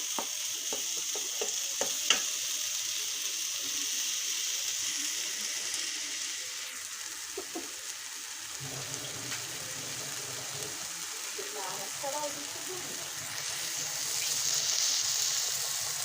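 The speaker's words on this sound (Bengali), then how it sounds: "তারপর আর একটু কষিয়ে নিচ্ছি ভালো করে" Rui fish curry masala fries in oil in a pan with a soft, steady sizzle and occasional stirring scrapes, fairly quiet and close, without any talking.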